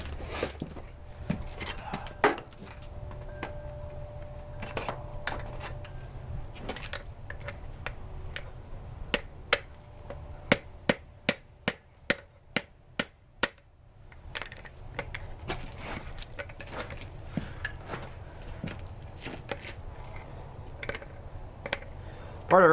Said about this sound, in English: We can start hammering on it and getting the profile of the billet.